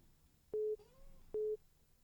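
A telephone busy signal after a dropped cellphone call: two short, identical steady beeps about a second apart, clean and faint over quiet background hiss.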